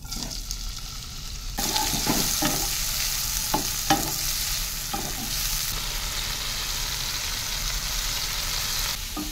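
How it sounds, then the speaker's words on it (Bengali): Turmeric-coated prawns hit a hot wok of oil, and the sizzle jumps to a loud, steady crackle. A few sharp stirring clacks sound over it, and no one speaks. "হলুদ মাখা চিংড়ি মাছ এবার কড়াতে দিয়ে দিচ্ছি।"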